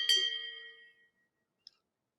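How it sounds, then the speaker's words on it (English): A small round bell is struck once, giving a bright metallic ding that rings out clearly and fades over about a second, followed by a faint tiny click in otherwise near silence. "but I will hit my round bell."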